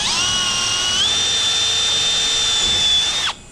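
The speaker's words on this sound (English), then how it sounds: "So I'll just lift the frame up a little bit, and we'll drill that hole in there." A power drill bores a hole in the frame of a Can-Am X3 Maverick four-door during a door install, one sustained high, whining run that holds steady and then cuts off abruptly near the end, close and loud with no talk.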